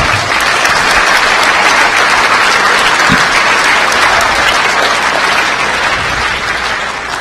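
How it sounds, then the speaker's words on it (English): Sustained loud applause from a hacker conference crowd at DEF CON awards, a dense unbroken wash of clapping that holds steady and only slightly fades near the end. "So, round of applause just to the hackers for staying up that long."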